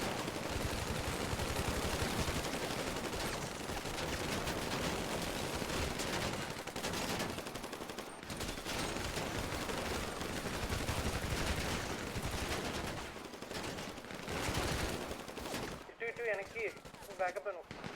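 Rapid gunfire bursts in a battle royale video game tournament match, repeated automatic shots crackling loudly over most of the stretch, with players talking over the shooting and a quieter tail at the end.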